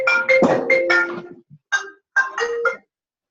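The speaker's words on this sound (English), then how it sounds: "My phone was ringing." A mobile phone ringtone plays in short melodic bursts during a conversation, sounding close and fairly loud, with a pause before two more brief tonal phrases.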